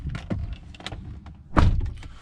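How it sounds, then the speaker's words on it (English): A solid, heavy thud of a 2021 Maxus T60 pickup's door shutting lands partway through, preceded by a few lighter clicks and knocks from the door. "The door is pretty solid."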